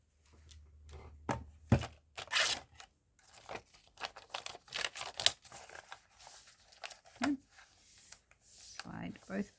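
Scissors snip and crinkle through paper while trimming a craft piece, short cutting and rustling bursts scattered among handling noises, close by with a voice talking intermittently.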